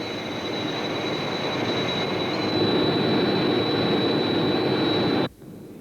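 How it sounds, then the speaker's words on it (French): Aircraft engine noise from another airplane flying close alongside, a steady loud broadband roar with a sustained high whine that runs throughout and cuts off abruptly near the end. "Un autre avion vient tout près du nôtre."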